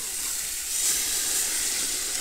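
Pork chops sizzling in a pan, cooked for breakfast in a duck blind: a steady, loud hiss with a slight swell partway through, with no voices.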